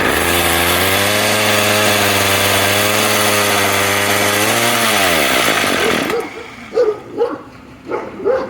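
A Craftsman weed eater with a suspected dirty carburetor runs with a loud, close, steady droning whine. The engine bogs down near the end and cuts out, followed by a few short, quieter bursts of sound.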